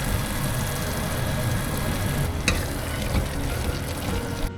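Chopped tomato with cumin and coriander powder sizzling steadily in a pan, a continuous close crackle and hiss with a brief scrape of stirring midway.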